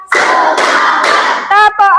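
An Indonesian classroom in an Islamic religious education lesson claps in counted ice-breaker bursts. About three loud, even rounds of group clapping are broken by short gaps, with voices chanting along near the end.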